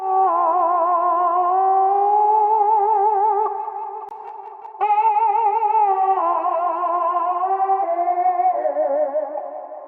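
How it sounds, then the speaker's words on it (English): A sustained, wavering vocal line smeared into a wide, eerie artificially doubled texture, with chorus-like shimmer and echo giving it a hollow, ghostly feel. "This is what makes it sound like this crazy,"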